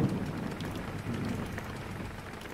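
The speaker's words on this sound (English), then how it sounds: "It's a nice rainy day." Soft, steady rain patters on a surface, a quiet even wash of drops with no voices over it.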